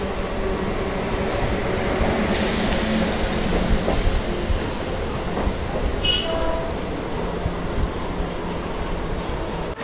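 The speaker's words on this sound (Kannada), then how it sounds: "ನಮ್ಮ ಟ್ರೈನ್ ಸದ್ಯಕ್ಕೆ ತಲುಪಿದೆ ವೈಟ್ಫೀಲ್ಡ್ ರೈಲ್ವೆ ಸ್ಟೇಷನ್ಗೆ" A MEMU passenger train rolls into Whitefield railway station near Bengaluru, heard from on board as a steady loud rumble of wheels and carriages with a metallic squeal rising partway through and lasting to the end.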